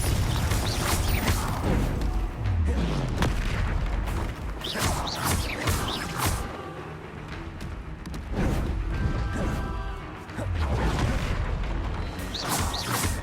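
Dense, continuous booming and crashing from combat spells in the video game Hogwarts Legacy, loud rumbling blasts with creaking and cracking textures layered over one another and recurring throughout.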